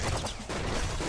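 Rapid SMG fire in the video game Nuclear Throne, a dense burst of loud overlapping shots over about a second with a brief dip midway, no voice over it.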